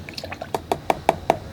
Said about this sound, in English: sorry about that noise. That's my water bucket there.